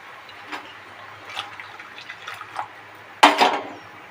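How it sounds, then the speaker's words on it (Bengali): Water poured into a pot of boiled masoor dal, a short splashing gush near the end after quieter scattered clinks and kitchen noises. "তো এর মধ্যে আমরা আরও কিছুটা জল অ্যাড করে দেবো।"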